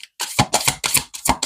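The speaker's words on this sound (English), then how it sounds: "one more shuffle" Tarot cards being shuffled by hand in a quick series of about five riffling bursts, close and crisp, with no talking.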